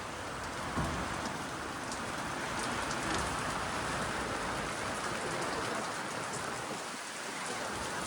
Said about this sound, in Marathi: आता थोडासा पावसाचा जोर कमी झालेला आहे.